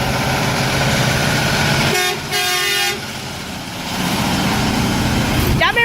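A truck's horn blasts loudly for about a second, a harmonic toot rising over rumbling road traffic and engine noise, followed by another brief horn note at the very end.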